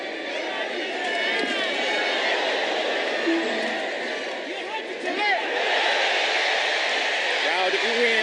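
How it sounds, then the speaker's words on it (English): A boxing arena crowd at a Pacquiao–Bradley fight swells with oohs and aahs at a landed punch, a broad sustained roar of many voices that rises and falls throughout. "Crowd oohing and awing as Pacquiao lands a left-hand shot"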